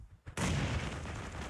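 Bomb blast in a shooter video game: a sudden heavy boom after a brief quiet start, followed by a loud, sustained rumbling roar that fills the rest of the moment.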